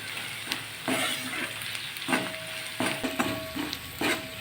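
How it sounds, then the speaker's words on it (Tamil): Chilli powder sautéing in hot oil for a green pepper curry, a soft continuous sizzle broken by repeated spoon strokes and scrapes against the pan, fairly quiet with no talking. "இந்த மிளகாத்தூள் வந்து இந்த எண்ணெயிலே நல்லா வதங்கிச்சுன்னா சீக்கிரமே அந்த மிளகா வாடையெல்லாம் போயிடும்"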